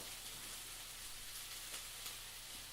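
Omelet ingredients sautéing in a pan on high heat, giving a steady, faint, even sizzle with a few small crackles throughout.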